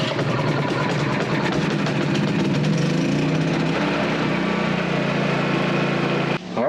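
A Predator 3500 watt generator engine runs steadily nearby, a continuous buzzing drone at even loudness before cutting off abruptly at the end.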